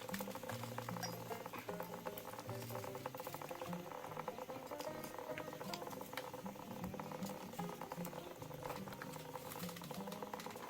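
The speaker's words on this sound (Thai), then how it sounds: "นี่ก็เป็นสมุนไพรที่มิวกำลังจะมาล้างแล้วนะคะ" Muddy wild herbs and roots, including wild banana roots, are washed in water, giving a faint, continuous patter and slosh of liquid heard from close by with no talking.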